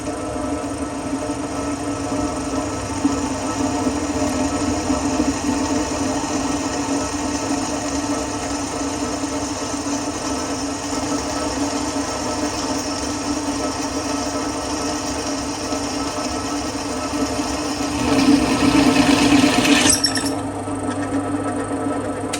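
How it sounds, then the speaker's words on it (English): A drill bores a hole during bike trailer fabrication, giving a steady, close mechanical whine that runs on for about twenty seconds. It turns harsher and louder near the end as it breaks through, then stops abruptly. "Make sure that the drill is actually drilling bang on centre."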